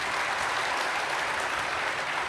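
An audience at a spiritual talk claps steadily and densely throughout, a continuous wash of applause with no voices over it.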